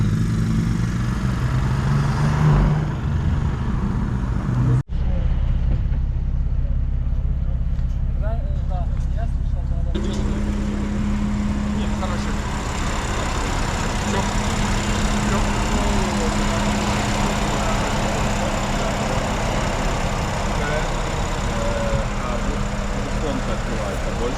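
A BMW M4 F82 runs at low revs, a steady engine drone heard from inside the car, with people talking over it throughout.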